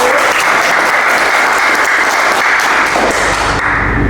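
Loud, close applause fills a village tourism talk show hall in Tugu Utara, Cisarua, Bogor, the audience clapping densely and continuously throughout.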